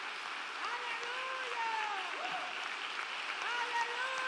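Congregation applauding during a Spanish-language Sunday church service, steady broadband clapping throughout, with a voice and tonal sounds running over it.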